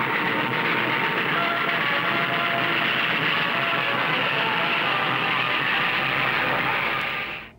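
A ghost train ride at Luna Park rumbles and rattles continuously, a loud, steady roar of rail cars clattering along the track that fades out at the very end.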